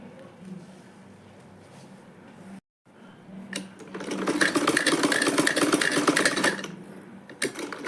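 Sewing machine stitching a pocket onto a handbag, a quiet handling passage and brief silence, then a loud, rapid, steady mechanical chatter close by for several seconds before stopping.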